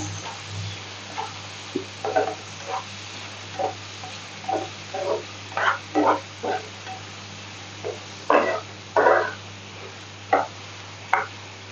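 Chilli slices and masala for a wet jawla shrimp dish are stirred in a pan. A spatula scrapes and clinks in short, irregular bursts over a faint, steady sizzle, with no talking.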